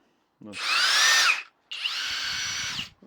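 A Flex 1/2-inch impact wrench rated at 1560 Nm runs on third speed in two bursts of bright, high-pitched whirring, each lasting about a second with a short pause between, close and with no talking.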